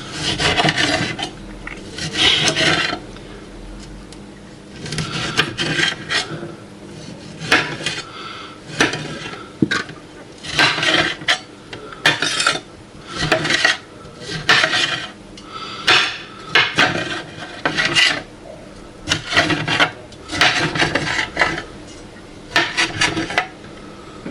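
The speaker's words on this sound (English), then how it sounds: "So I'm going to roughly chop another tomato." Knife roughly chopping a tomato for a Greek-style salad, a long series of rhythmic bursts of rapid cutting strokes on a board separated by short pauses, close and clear with no talking.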